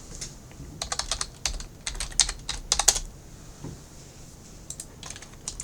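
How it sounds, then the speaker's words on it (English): Quick keystrokes clatter on a computer keyboard in short uneven bursts, close and crisp in an otherwise quiet room, ending in a few scattered taps. "let's just say I go on here and I type in skateboard"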